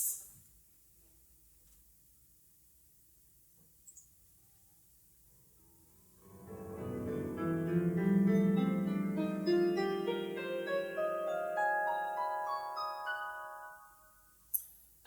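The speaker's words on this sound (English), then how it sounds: "It's actually a series of interlocked pentatonic scales." Layered melodic notes from a series of interlocked pentatonic scales enter about six seconds in after near silence, building into a dense, overlapping cascade of bright tones that rise and thin out before stopping.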